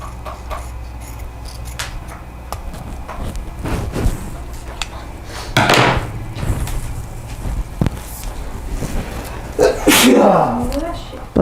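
A single sharp sneeze bursts out near the microphone amid a quiet room where someone is crafting wreath bows, with soft rustling and handling noises and brief speech nearby.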